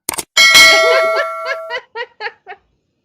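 A bell ding sound effect rings out brightly, then a handful of shorter chiming repeats fade away one after another. No one speaks.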